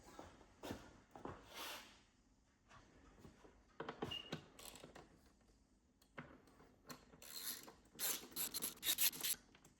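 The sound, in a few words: ratchet undoing 7mm bolts on BMW E46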